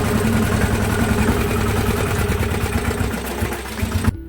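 A tractor engine runs steadily close by, a continuous low rumbling drone with rhythmic pulsing that shifts slightly near the end, with no speech.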